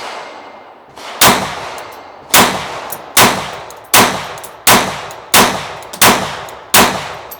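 A German GSG 1911 .22 pistol firing eight sharp, loud shots at a roughly even pace of about one every two-thirds of a second. Each crack rings off metallically and decays briefly, with no talk between shots.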